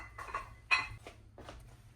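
A metal lid set onto a pot of New Orleans gumbo on the stove, a few short clanks and scrapes of metal on metal, close and quiet.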